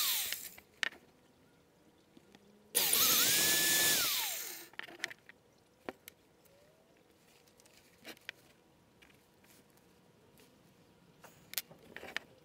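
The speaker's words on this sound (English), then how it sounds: "I'm going to drill these bottom ones first, the front one." A power drill bores holes into a handmade wooden glide fishing bait, one loud sustained whine of about two seconds rising in pitch, then only faint scattered clicks and handling taps in a quiet room.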